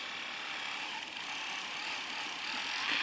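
A Scholl Velvet Smooth electronic nail polisher runs on its polishing speed, giving off a steady, even high-pitched whirring buzz that holds close and constant for the whole stretch, with no voices over it.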